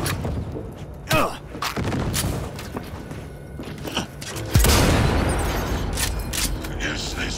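Gunshots in Cyberpunk 2077 land as scattered booming reports amid game noise, one especially loud blast near the middle, while someone talks over the action.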